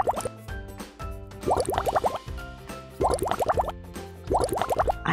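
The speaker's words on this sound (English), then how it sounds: "we're going to add some water in the cup" Water poured into cups in a colour-mixing experiment, three bursts of gurgling, plopping liquid filling the cups up close, with quiet talk between pours.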